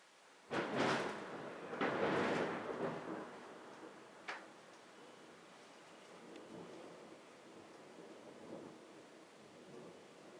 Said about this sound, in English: I seen the lightning flash, then I heard the thunder.